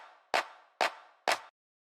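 Three crisp claps from a minimal house drum loop, evenly spaced with short reverb tails, played alone and fairly quiet.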